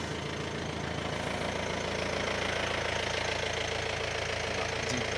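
An open jeep idles in Suryanelli town before a Kolukkumalai safari ride, its engine a steady, close, rough knocking rumble that holds even throughout.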